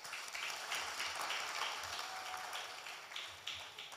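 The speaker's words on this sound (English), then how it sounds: "give a big round of applause to the organizers for putting out such an amazing event today" Audience at a Nigeria Health Watch solutions journalism close-out event applauding the organizers, a faint, continuous patter of many hands clapping heard from a distance.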